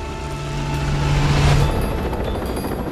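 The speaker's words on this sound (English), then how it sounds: "Major Marshall hears the throb of distant helicopter engines" A steady low engine drone hums throughout, distant and continuous, with a faint tonal throb layered over broadband rumble.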